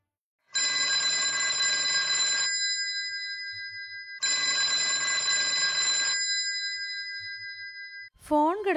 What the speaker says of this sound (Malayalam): ഫോൺ കിടന്നടിക്കുന്നല്ലോ.